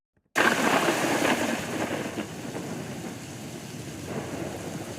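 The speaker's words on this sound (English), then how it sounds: "thunder can also be effective" A sudden loud crack of thunder that rolls and rumbles on, slowly fading into a low, continuous roar.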